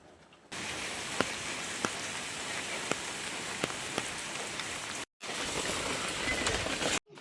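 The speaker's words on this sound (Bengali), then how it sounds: "দুদিন ধরে যে এত বৃষ্টি হচ্ছে আমাদের বাড়ির পুকুরে জল একদম ভর্তি হয়ে গেছে" Steady rain falls in a flooded village, where a pond beside the house has filled up after two days of downpour. The hiss is dense and continuous, with a few sharper drip knocks, and it breaks off briefly near the end.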